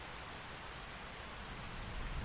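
Steady rainfall in the mech strategy game Phantom Brigade, a broad even hiss of drops that holds at a constant level and swells slightly near the end, with no talking.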